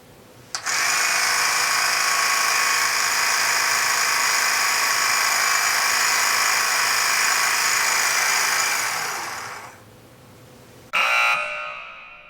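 A $20 electric bobbin winder runs steadily for about nine seconds winding thread off a full spool, a loud, even whirring buzz that cuts off, then starts again briefly for a second burst.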